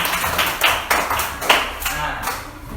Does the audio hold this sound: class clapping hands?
yes